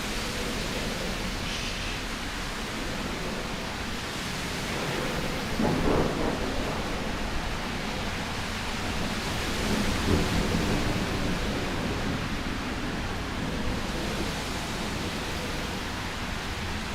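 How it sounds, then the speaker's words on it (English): Steady heavy rain from a thunderstorm in Fort Lauderdale, Florida hisses throughout while low rolls of thunder rumble in twice, once in the middle and again a few seconds later. "Guys, did you hear the thunder?"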